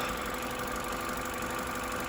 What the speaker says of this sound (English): We've got a little bit of ticking noise, but these really do have that ticking noise